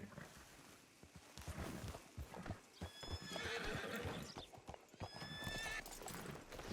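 Horse hooves clip-clop steadily in the Western game Western Skies RP, a quiet close walking rhythm with a horse neighing partway through, no talk over it.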